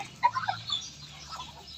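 Chickens clucking softly in a shared chicken and duck coop roofed with corrugated zinc, a few brief calls near the start over a low background hum, fairly faint.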